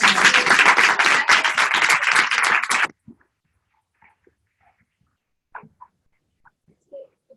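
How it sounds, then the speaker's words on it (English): Applause from an audience at a voiceover marketing panel. A burst of dense, loud clapping that stops abruptly about three seconds in, followed by near silence with a few faint scattered clicks and small sounds. "can we just give a round of applause?"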